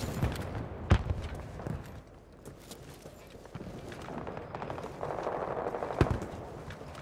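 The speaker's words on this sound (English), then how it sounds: "I'm gonna shoot the tank." Gunfire aimed at a tank in a shooter video game, with scattered sharp shots and short rattling bursts, some close and punchy, over a busy rumbling battlefield background.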